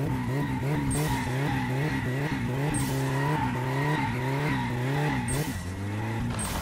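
A turbocharged 1.6 car in the My Summer Car game spins and skids its tyres in long, continuous squeals over a revving engine.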